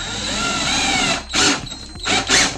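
A power drill drives screws into the wooden roof of a bird feeder, a loud steady whir that cuts off, then two short bursts of spinning and gripping.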